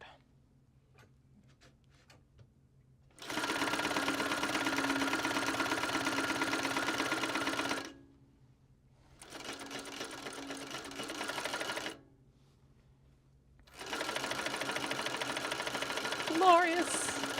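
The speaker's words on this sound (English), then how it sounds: "I'll just go in and wind another bobbin, but black thread" A sewing machine winds a bobbin with black thread in three long, steady whirring runs separated by short pauses, close and loud against a quiet room.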